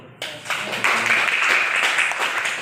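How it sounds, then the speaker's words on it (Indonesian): Students clapping in a classroom during a lesson on the Ayyubid dynasty, a dense burst that starts abruptly and holds steady and fairly loud to the end, with no voices over it. "Oke, tepuk tangan dulu."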